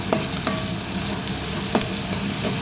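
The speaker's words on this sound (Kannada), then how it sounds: "ಇವಾಗ ಇದ್ರ ಜೊತೆ ಈರುಳ್ಳಿ ಮತ್ತು ಸ್ವಲ್ಪ ಉಪ್ಪು ಹಾಕಿ ಚೆನ್ನಾಗಿ ಫ್ರೈ ಮಾಡ್ಕೊಳ್ಳೋಣ." Chopped onion, salt and mustard seeds fry in a hot kadai for cabbage sambar, a dense close sizzle running throughout with a few scraping stirs of a spoon, and no talk.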